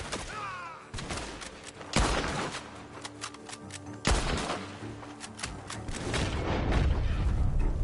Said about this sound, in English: Gunshots are coming from that...